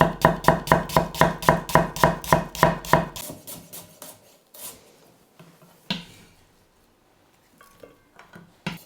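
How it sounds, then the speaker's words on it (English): A knife slices a couple of onions on a cutting board for a homemade chicken and leek pie: a quick, even run of about a dozen sharp, close chops, then a few scattered, quieter cuts and taps. "Next, I have a couple of onions to get peeled and sliced."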